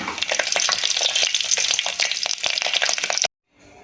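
Cashews and raisins fry loudly in hot oil for a palak paneer pulao, a dense close sizzle with stirring clatter that runs steadily for about three seconds before cutting off sharply, and no one speaks.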